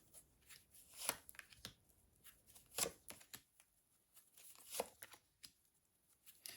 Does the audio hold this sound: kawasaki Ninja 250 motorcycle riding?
no